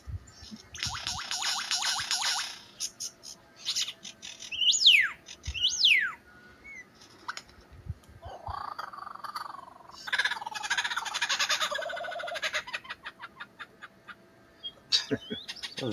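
A wild lyrebird at night mimics a kookaburra's laughing call, giving loud rising and falling cackles and chattering bursts among frog calls and other bird sounds, with no voices.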